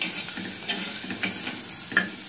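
Small onions sautéing in a pan for a baby's dal rice lunch, a steady sizzle with several soft scrapes and stirs of a spoon against the pan, close and alone.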